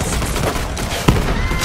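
A shotgun firing in the video game Borderlands 3, dense explosive gunfire and blasts packed into a loud, chaotic second and a half of combat.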